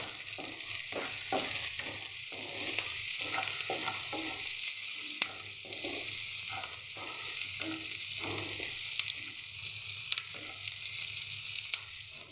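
Onions with salt and turmeric frying in a pan, a steady sizzle with a repeated rhythmic scrape of a spoon stirring close by.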